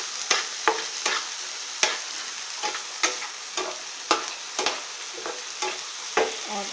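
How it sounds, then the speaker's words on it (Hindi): Tomatoes and green chillies fry in a pan for suji vermicelli, a light sizzle broken by frequent sharp stirring scrapes and clinks in an uneven rhythm. "और इसी समय हम इसमें ये टमाटर डाल देंगे। हमें कोई भी सब्ज़ी ओवर कुक नहीं करनी है। ये हरी मिर्च डाल देंगे"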